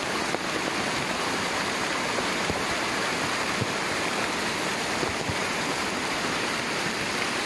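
Typhoon floodwater rushes and roars steadily and loudly down from above, a constant heavy torrent pouring down without pause.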